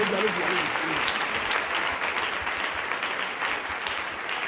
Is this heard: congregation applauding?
yes